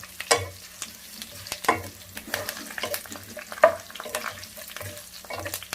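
Cashews frying in a pan for coriander rice, a soft sizzle punctuated by repeated scraping stirs of a spatula every second or so, quiet and close with no talk.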